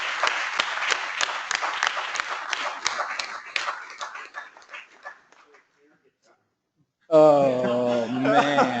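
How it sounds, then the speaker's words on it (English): Conference audience applause, dense clapping that starts loud and gradually thins and fades to near silence, followed by someone speaking. "So let's just give them a huge round of applause."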